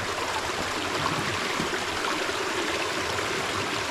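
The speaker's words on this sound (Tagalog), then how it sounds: "Yung mga sapa namin dito" A small stream flows steadily with a broad, close rushing wash and light gurgling over rocks. The water is thin and low, and the sound stays constant with no voices.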